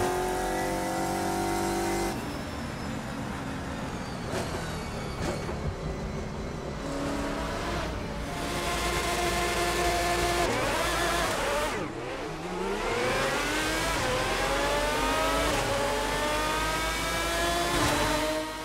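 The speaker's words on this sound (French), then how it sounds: "Et place à la monstrueuse Lanzo V12, la Lamborghini Murcielago absolument bestial ici." A Lamborghini Murcielago V12 race car in the Assetto Corsa racing game roars loudly and steadily, its engine note sweeping up and down through repeated gear shifts, with one sharp drop and climb near the middle.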